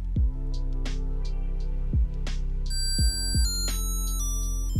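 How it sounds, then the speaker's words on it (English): An Ekster solar-powered wallet tracker rings when triggered from a phone, giving a clear electronic chime that sounds late in the clip over a backing track with heavy, regular thumping beats, and no one speaks. "you can actually ring this device with your phone"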